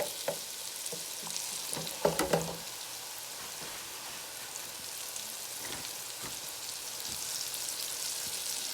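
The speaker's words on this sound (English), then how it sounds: "And then I'm going to drop them down in the oil." Battered dandelion fritters fry in hot oil with a continuous fine crackling hiss, a brief louder burst of spattering as pieces drop in, then an even sizzle.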